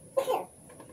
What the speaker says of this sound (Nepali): त्यसले खोकी लागेछ त